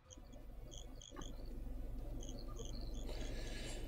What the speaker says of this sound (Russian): Уже задолбали твои сверчки опять.